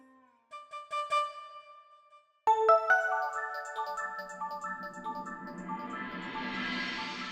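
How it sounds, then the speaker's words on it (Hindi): A mobile phone ringtone plays a bright electronic melody, pausing briefly, then ringing on louder and fuller with repeating notes. "किसी का फोन आ रहा है।"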